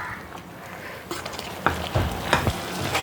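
Liver pieces frying in coconut oil, a low sizzle broken by several sharp scraping and stirring knocks of a spatula in the pan, close and fairly loud, with no talk.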